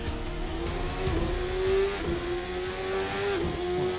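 Race car engine in a racing video game pushing through the final corners at St. Pete, a steady high-revving drone with pitch rising and dipping as it shifts and brakes, continuous and close with no talk.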